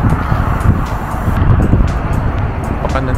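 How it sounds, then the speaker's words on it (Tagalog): Strong wind buffets the microphone in a constant low rumble for a few seconds, with no speech. "Medyo malakas yung hangin"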